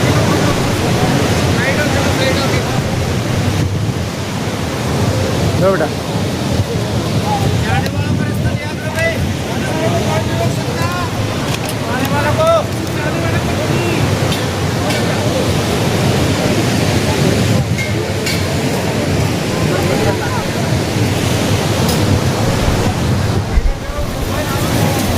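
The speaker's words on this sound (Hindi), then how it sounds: "ये है सरस्वती नदी।" The Saraswati river at Mana village rushes in a steady, loud, broadband roar throughout, with a voice briefly audible beneath it.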